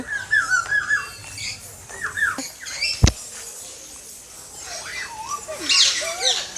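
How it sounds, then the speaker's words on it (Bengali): Several short, high squawks and chirps from a sky-blue parakeet at Bangabandhu Sheikh Mujib Safari Park, Gazipur, come in bursts over a quiet background, with one sharp click midway. "ওই দেখুন আকাশি কালার টিয়া পাখি"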